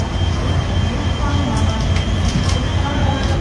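An Udaipur–Jaipur intercity train pulls out of Chittorgarh Junction, giving a dense, steady rumble of wheels and carriage noise up close, with faint rhythmic clatter.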